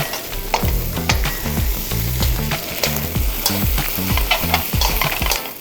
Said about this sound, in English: Oh, this is the kind of wok cooking that makes me so happy.